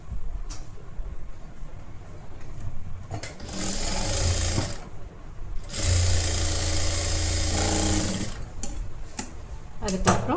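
A sewing machine stitches blouse sleeves in bursts, running fast and buzzing loudly for a few seconds at a time, with quieter handling between runs.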